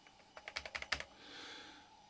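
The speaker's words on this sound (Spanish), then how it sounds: "los teclados pues son mecánicos, son teclados súper mecánicos, súper robustos" About seven quick keystrokes rattle on a robust mechanical Amstrad computer keyboard, close and crisp, followed by a short soft hiss.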